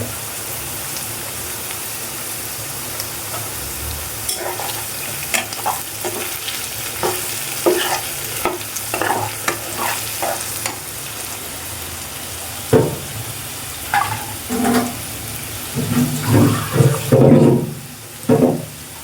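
Fish head curry with chili and coriander powder frying in a pan, a continuous sizzle broken by irregular scraping and stirring knocks that grow louder and busier toward the end.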